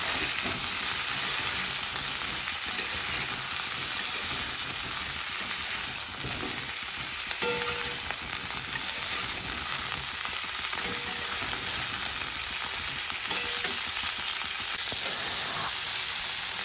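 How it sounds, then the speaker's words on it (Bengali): Steady, loud sizzling of salted, turmeric-coated cauliflower frying in a pan, continuous hiss with occasional faint stirring sounds. "এরপর আমি ফুলকপি ভেজে নিচ্ছি"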